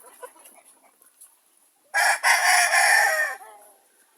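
Young chickens cluck softly in a coop, then a young rooster lets out one loud, close, strained crow lasting over a second, followed by quieter clucking again.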